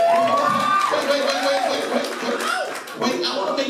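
A comedy club audience at Harvey's Funny Tuesdays claps and cheers in a steady burst, loud and close, while a comedian keeps talking over the applause.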